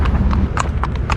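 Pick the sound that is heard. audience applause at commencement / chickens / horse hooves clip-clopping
horse hooves clip-clopping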